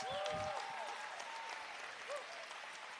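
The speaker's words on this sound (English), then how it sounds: "Give her a round of applause" An audience applauds steadily for a man's wife, Sonia, as she stands up at a testimony gathering, with sustained clapping that has a brief swell near the start and a few scattered whistles over it.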